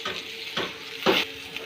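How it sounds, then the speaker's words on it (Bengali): Potatoes seasoned with turmeric, salt and chili powder fry in hot oil in a kadai (wok), giving a close, steady sizzle with a few louder surges as they are stirred. No one speaks. "কড়াইতে তেল দিয়ে আলুগুলি ঢেলে দিয়েছি"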